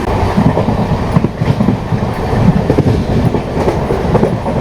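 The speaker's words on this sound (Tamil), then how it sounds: "நல்ல 110 கிலோமீட்டர் வேகத்தில் வந்து நம்ம வந்து திருமங்கலம் ஸ்டேஷன் வந்து ஸ்கிப் பண்ணிகிட்டு இருக்கோங்க." The Tirunelveli–Mangaluru Express runs at about 110 km/h, heard from aboard as a loud continuous rumble with rapid clickety-clack of the wheels over the rails, with no talk.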